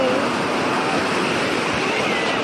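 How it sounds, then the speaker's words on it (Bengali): Sea waves breaking at Digha beach make a steady, close surf roar with wind buffeting the microphone, continuous for the whole stretch. "এই যে ঢেউ আসছে, ঢেউ ঢেউ ই চাপা, ওইটা আসছে বড় ঢেউ বড় ঢেউ।"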